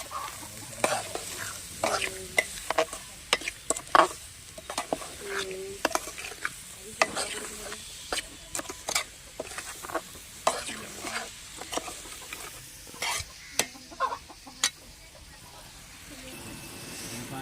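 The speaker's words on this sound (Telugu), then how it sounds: "ఉల్లిపాయ వేసుకొని అయితే నేను ఒకసారి అయితే తిప్పుకుంటున్నానండి." Onions for prawn curry frying in a pan, a soft hiss under frequent scraping and clattering stirs of a spatula in irregular bursts, while a voice speaks quietly at times.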